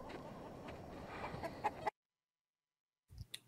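Chickens cluck in a scene from the Fallout TV show, a few soft clucks and squawks over a quiet background before a sudden cut to silence, then a brief faint burst.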